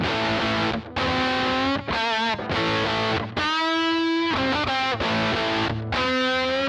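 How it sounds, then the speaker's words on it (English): A guitar runs through a Beetronics Tuna Fuzz, a one-knob fuzz pedal built into a tuna can, playing loud, buzzy, saturated riffs and sustained notes in short phrases separated by brief gaps. "It's a one-knob fuzz pedal built into a tuna can,"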